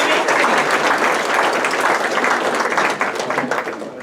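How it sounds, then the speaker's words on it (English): Sustained applause from a graduation brunch audience, a dense, loud crowd of clapping hands that holds steady and then starts to taper. "So if we could give a round of applause for all those individuals."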